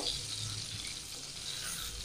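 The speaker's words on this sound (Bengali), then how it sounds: "মাছটা একটু বেশি ভাজা দিয়েছি আমি" Fish sizzles steadily as it fries in hot oil, a continuous close crackling hiss with no pauses, heard alone without talk.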